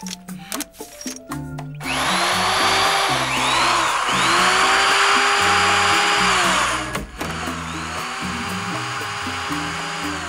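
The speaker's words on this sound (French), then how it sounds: "Perceuse." A power drill whirs steadily for several seconds in a cartoon scene, loud and close over background music, then cuts off.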